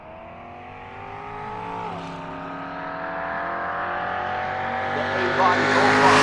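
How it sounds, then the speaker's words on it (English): A 1967 Dodge Dart A-Body Mopar does a burnout on the drag strip at Pueblo Motorsports Park, the engine climbing in a long, rising rev with a hiss of tire smoke building and growing louder throughout. "doing the burnout in the A-Body Mopar, coming at you now"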